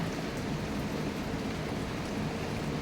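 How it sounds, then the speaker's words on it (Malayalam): Steady, dense rain pouring down close by, a continuous hiss with no breaks or other sounds. "നല്ല സൂപ്പർ മഴ പെയ്തുകൊണ്ടിരിക്കുകയാണ്"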